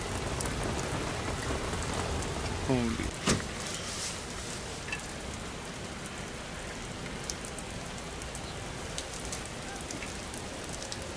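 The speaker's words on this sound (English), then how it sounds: "the rain is getting heavier, and the wind is picking up." Heavy rain pours steadily at London City Airport, a dense, even hiss of drops on surfaces throughout, with a brief exclamation from a voice early on.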